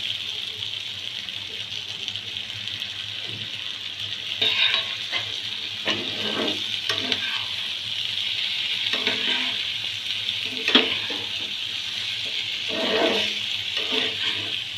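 Paneer frying with capsicum (bell pepper) in a pan, a steady close sizzle broken by repeated scraping stirs of a spoon against the pan, with no talking.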